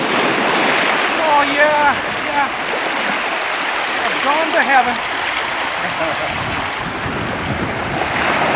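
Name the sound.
ocean waves at Pink Beach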